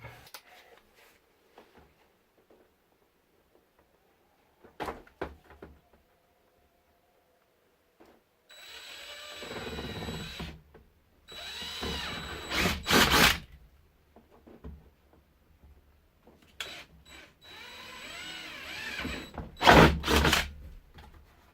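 Several loud bursts of a power drill with a 7 to 7.5mm bit grinding through material, each lasting a second or two, separated by quiet pauses and small clicks.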